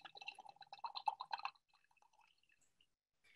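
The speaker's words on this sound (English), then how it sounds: "As soon as I pour it in my glass." Pepino wine poured into a glass: a quiet, close gurgling splash for about a second and a half, then a few faint drips and near silence.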